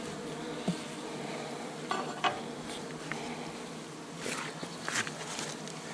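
Honeybees humming from an opened log hive, a continuous close swarm buzz with occasional brief clicks and knocks on the wood.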